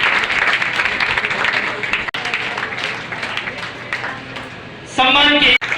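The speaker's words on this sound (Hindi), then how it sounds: "तालियां बजेगी तो पुरस्कार वितरित होगा।" Audience applause at a Hindi-language talent award ceremony held by a newspaper, a steady wash of clapping with voices mixed in, ending in a brief burst of a different sound near the end.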